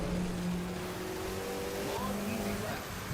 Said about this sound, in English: it's louder when we're in the car, like the engine car sounds and engine sound effects and stuff